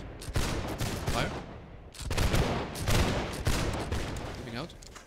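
Musket volley fire in Holdfast: a dense, loud burst of overlapping shots from a line of players, then a second ragged volley, with booming echoes and crackle and scattered shouting voices.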